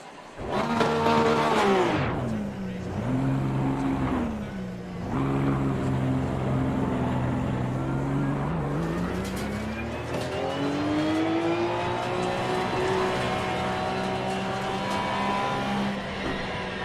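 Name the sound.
race car driving on track in video game Assetto Corsa Competizione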